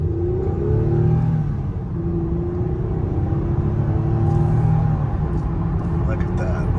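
A 2007 Toyota Avalon accelerates onto an on-ramp, its engine note climbing in a smooth, moderate rising whine over a low cabin rumble while a person talks over it.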